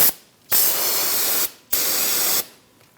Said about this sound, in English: We'll clean up this area with a little bit of brake parts cleaner